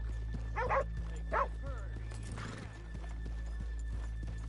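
Horses in Red Dead Redemption snort and whinny a couple of times over a steady low hum, with light rhythmic hoof clops and faint voices.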